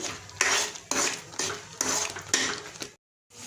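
A spoon scrapes and stirs spice masala of red chili and coriander powder in a pan for Assamese matar paneer, with about six close, rhythmic strokes broken by a short pause.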